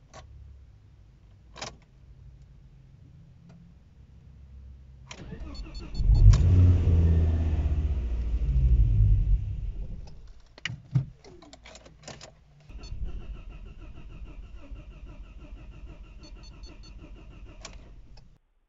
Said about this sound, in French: C'est donc l'heure du redémarrage de la Ford.